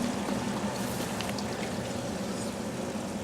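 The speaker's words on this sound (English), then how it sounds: "And now it starts draining out." An RV's black water tank drains through a hooked-up hose, a steady gushing, splashing flow of liquid that stays constant and fairly close, with no talking.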